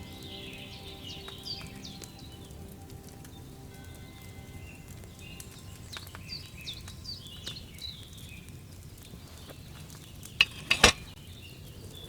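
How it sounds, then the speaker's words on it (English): Wine bubbling as it boils in a cauldron over a flame in Kingdom Come: Deliverance II, a quiet, continuous simmering burble with soft pops, and a brief clatter near the end. "Hear that bubbling? It's boiling."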